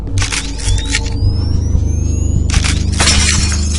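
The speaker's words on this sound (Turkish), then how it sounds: "Ha cam kırılması." Glass shatters loudly in the horror video game Cry of Fear, two bursts of breaking and tinkling shards, the second around the three-second mark, over a steady low droning game ambience.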